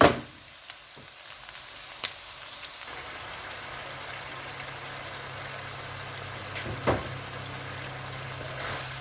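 Minced lamb, carrots and green peas sizzle steadily in a pan, a close, even frying hiss with a few sharper clinks partway through and no one talking.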